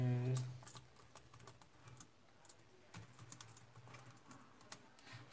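Rapid, light keystrokes clatter on a laptop keyboard in uneven bursts, close up, with a brief voice heard at the start.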